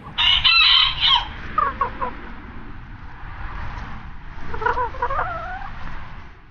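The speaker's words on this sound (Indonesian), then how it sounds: "Ini ada sepasang ayam teman-teman." A pair of chickens, a rooster crowing loudly up close at the start, then clucking and a second shorter crow over a steady background murmur.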